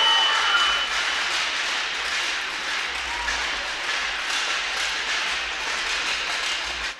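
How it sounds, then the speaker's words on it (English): Sustained applause fills the stands of a hockey arena at a girls' hockey championship game, a broad steady wash of clapping and crowd noise lasting the whole stretch without pause. "give a big round of applause to your parents and grandparents and guardians"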